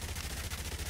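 Minigun firing in the video game Yet Another Zombie Survivors, a dense continuous stream of rapid shots with a steady low rumble, unbroken throughout.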